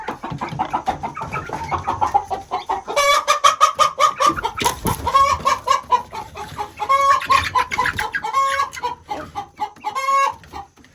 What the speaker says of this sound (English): It's our rooster and our 2 hens.